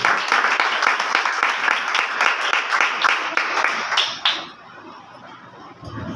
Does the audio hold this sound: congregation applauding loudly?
yes